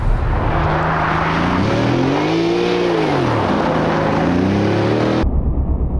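A car on winter tires swings through a drift transition, its engine droning loud and steady with pitch rising and falling as it rocks from one slide to the other, then cutting off abruptly near the end.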